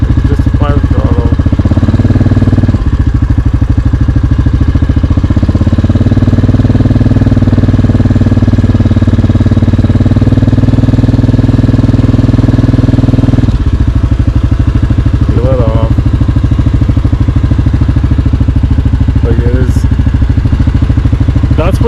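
A 2022 Yamaha Grizzly ATV engine runs loud and close with a steady throbbing drone that rises and falls under throttle, while voices talk briefly over it.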